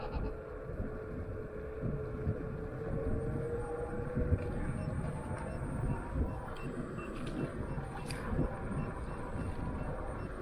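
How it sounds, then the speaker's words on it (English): Faint repeated electronic overspeed warning beeps from a Xiaomi Pro 2 electric scooter sound over a steady rumble of wind and motor noise while riding. "it's beeping at me that it's going over the speed"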